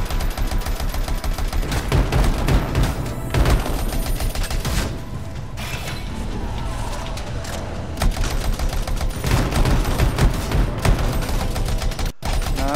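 Sustained automatic gun-turret fire in the video game Anthem, a dense rattling fusillade that runs almost continuously with a brief lull in the middle, loud and close.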